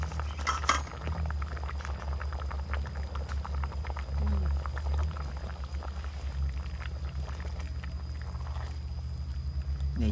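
Pot of soup at a rolling boil as lime leaves are added, a steady bubbling hiss with light clinks of utensils and glass up close, and a brief knock near the start.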